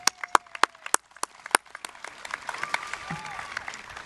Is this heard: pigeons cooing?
no